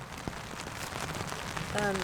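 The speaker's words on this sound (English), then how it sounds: "I guess we're just gonna have to wait for a gap in the rain before we can pack this up." Rain patters steadily on a tent in dense, close hiss and tapping, with a voice briefly breaking in near the end.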